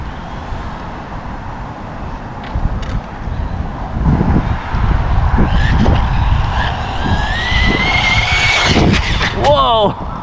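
A fast RC car running on a 3S LiPo spins out, with tyre scrub and a whining motor rising toward the end over loud wind and outdoor noise, while a person talks excitedly nearby.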